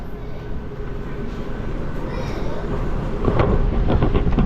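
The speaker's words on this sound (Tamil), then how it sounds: "ஐயோ ட்ரெயின் வந்துச்சு." A bullet train in Taiwan rumbles into a station with a low, rising roar and rhythmic clatter, growing louder near the end as it pulls close.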